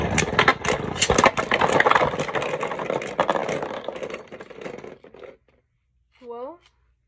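Hasbro Beyblade Speedstorm spinning tops launched into a stadium for a four-way left-spin battle, a loud dense rattling whirr of tops grinding and clacking that fades out after about five seconds, followed by a brief rising voice sound.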